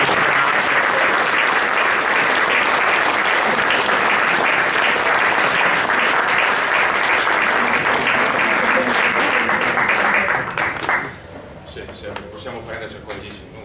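An audience at a Catholic Action family festival breaks into sustained loud applause that stops abruptly near the end, leaving softer voices and someone speaking.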